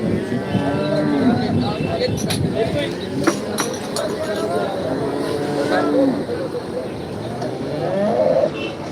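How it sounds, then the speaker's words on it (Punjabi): Jersey and HF cattle lowing at a busy livestock market in Khanna, several drawn-out moos rising over a steady background of voices and animal noise. "ਜਰਸੀ ਗਾਵਾਂ ਐਚਐਫ ਟੌਪ ਦੀਆਂ ਗਾਵਾਂ ਤੇ ਬੱਚੀਆਂ ਦੇਖ ਲਓ"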